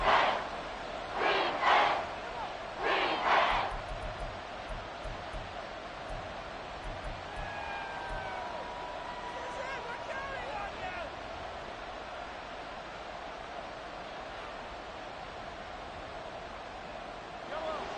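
A roaring stadium crowd in the Madden 24 football video game swells into a broad, steady wash of cheering under a commentator's voice, with a few sharper shouts early on.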